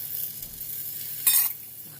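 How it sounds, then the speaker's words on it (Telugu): Dosa batter sizzling on a hot pan, seasoned with a paste of onion, garlic and red chilli, a soft steady crackle with one brief louder burst of hissing near the middle. "దోశ వేస్తా చూపిస్తా ఎట్లా చేయాలన్నది"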